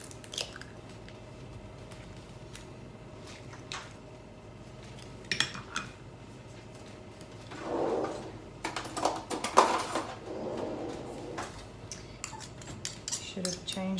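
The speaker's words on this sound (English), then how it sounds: "So I'm going to crack in my egg." An egg is cracked into a bowl: sharp close taps and clinks against the rim, then a brief wet slosh and more utensil clinks, with no clear talking.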